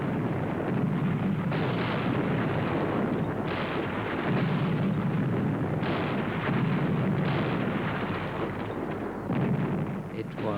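An artillery barrage opening fire in wartime, a continuous heavy rumble of distant guns with overlapping booms rolling into one another, loud and sustained throughout.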